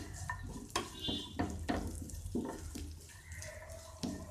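Almonds and cashews are fried lightly in a pan, stirred and tossed so they scrape and clatter over a soft steady sizzle, quiet and close with irregular bursts of stirring.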